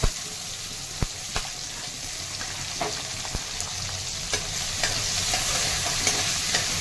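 Tender coriander stalks sautéing in hot oil in a pan, a steady soft sizzle with occasional sharp clicks and taps of a spatula stirring, close and continuous with no voices.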